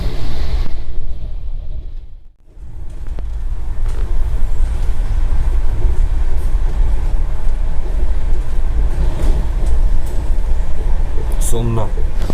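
Vande Bharat Express (Train 18) passes close by at an Indian station, a loud sustained rushing rumble of rail carriages after a brief lull, with a hiss of air brakes and people talking under it.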